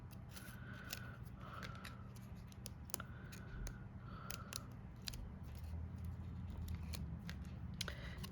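Backing being peeled off foam tape on a Christmas card, close and quiet, with a run of small crackling ticks and soft tearing strips at an uneven rhythm.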